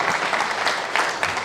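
An audience at a diploma ceremony for accounting teachers claps steadily and densely throughout, a full room's applause heard close and evenly without any speech.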